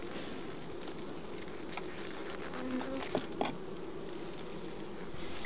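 Honey bees buzzing around an opened Flow Hive brood box, a steady low drone of many insects at moderate distance with a few faint knocks and clicks over it.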